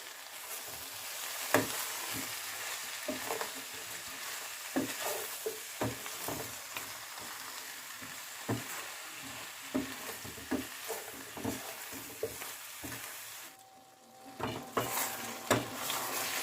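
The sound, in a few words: vegetables for labra frying in a pan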